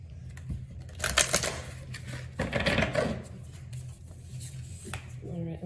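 Oracle cards shuffled by hand at close range, a run of soft papery riffles and flicks in two main bursts with quieter handling between, and no voices.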